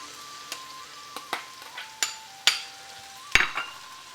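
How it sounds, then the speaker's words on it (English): Red and green peppers tossed into a hot pan for a tofu tikka rezala curry: a faint sizzle broken by sharp, ringing clinks of a utensil striking the pan every half second or so. "now we're going to throw in the red pepper and the green pepper"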